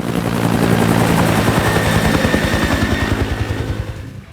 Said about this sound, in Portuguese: um helicóptero se aproxima.